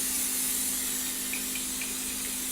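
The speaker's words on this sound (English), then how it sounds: "So we're going to spray the bowl to make sure that" Cooking spray from a can misted into a bowl for southern-style mac and cheese, a continuous close hiss lasting a couple of seconds with no talking.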